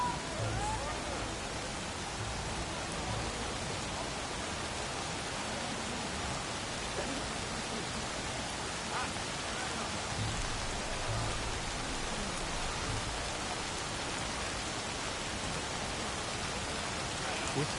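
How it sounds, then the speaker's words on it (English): Steady, dense rain falls continuously in Horizon Forbidden West, a uniform hiss with no pauses, moderately loud and unchanging throughout. "There's the rain. I can smell it coming."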